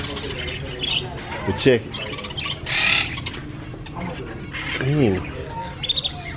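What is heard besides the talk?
birds chirping and squawking in a pet store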